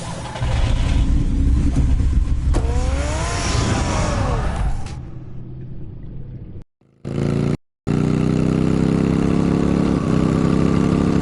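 Batman's car engine in the Telltale Batman video game: a loud, sustained engine roar with a rising whine that swells and fades, then brief cutouts before a steady low idling rumble returns.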